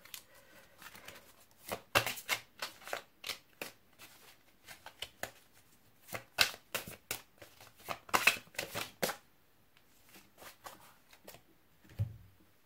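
Playing cards shuffled and drawn in a quiet room: a run of crisp riffling bursts and flicks in close succession, with pauses between groups and a low thump near the end; no voices.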